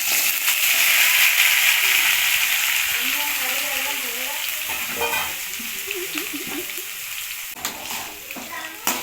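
Boiled cluster beans sautéing in oil in a village kitchen, a loud steady sizzle that eases off with scattered stirring scrapes, while a voice talks briefly in the background.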